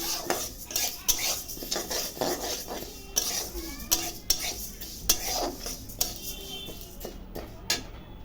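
Mashkalai dal dry-roasting in a pan while a metal spoon scrapes and stirs it, giving repeated clinking and scraping strokes at close range.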